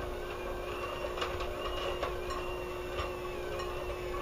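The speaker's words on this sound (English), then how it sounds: "I'm going to use my hand mixer to start blending this together on low." An electric hand mixer runs on low, creaming softened margarine into chocolate nut cookie dough, giving a steady close whirring hum with faint rhythmic ticking throughout and no voices.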